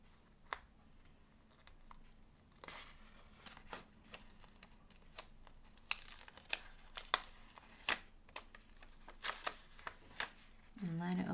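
Backing paper peeled from a Disney dolls house wall piece, heard as a series of crisp crackling and tearing snaps scattered throughout, close and fairly quiet, with a voice speaking at times.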